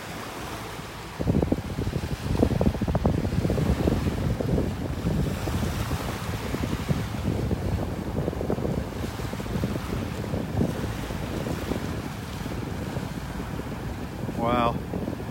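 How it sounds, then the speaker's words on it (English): Wind blowing on a beach in North Naples, Florida, a steady rumbling gusty roar buffeting the microphone with surf underneath, loud and continuous for about fifteen seconds, with a short high whistle-like chirp near the end. "Hear the wind blowing here"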